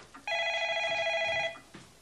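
A telephone rings with a single long, loud electronic trill lasting over a second, clear and close, followed by faint rustling.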